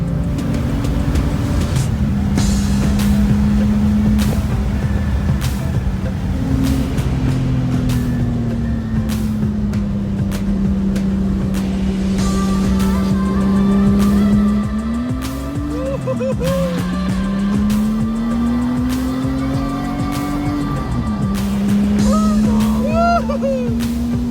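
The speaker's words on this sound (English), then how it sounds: "We're in Stupid Car, going for a ride." Cabin of a rough, stripped-down car on a ride, engine droning steadily with pitch rising and falling through gear changes, loud and close, while people talk over it.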